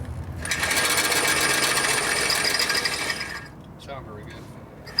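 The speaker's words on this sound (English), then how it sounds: "See how long this drill lasts." Power drill boring out a bolt during primary chain repair on a 2009 Harley-Davidson FLH touring motorcycle with a 96ci engine: a loud, steady, harsh high-pitched whine for about three seconds, then it stops and faint handling noises follow.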